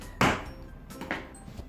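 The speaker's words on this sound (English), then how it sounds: "it generally takes one tap of your hammer to get it to lay down flat" A hammer strikes a scrap tapping block against a vinyl flooring plank, making a sharp close knock followed by a couple of softer taps.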